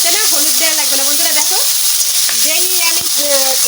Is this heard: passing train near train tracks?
no